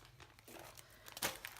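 A thin plastic Target shopping bag crinkles and rustles in quick, close, dry bursts, with one sharper crunch near the end and no talking.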